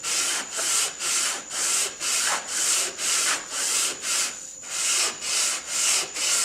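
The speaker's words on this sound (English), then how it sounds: "Slide my hand, gentle pressure, even strokes, make sure that the top and bottom get contact with the sandpaper." A redheart wood bandsaw box is rubbed back and forth across sandpaper by hand, making a close, loud, rhythmic rasping of even strokes, about two per second, with no talk.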